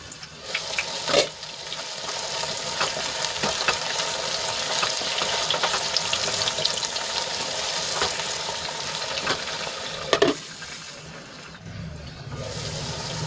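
Eggplant (brinjal) sizzles steadily as it sautés covered in a pan, a constant hissing fry with a few sharp clinks and stirring knocks, close and moderately loud throughout.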